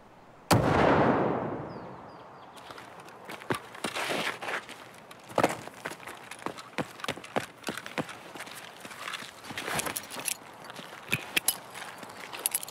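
Gunfire in Escape from Tarkov from a VPO rifle: one loud, booming shot with a long decaying tail, then a steady run of sharp, scattered shots and clatter throughout.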